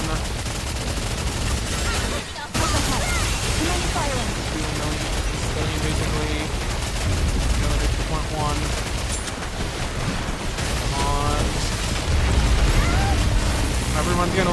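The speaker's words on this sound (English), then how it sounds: "Commence firing" Sustained gunfire and bursts of shooting from the Nikke video game, a dense continuous barrage with booming impacts and one brief drop near the start, running for the full stretch with a voice talking over it.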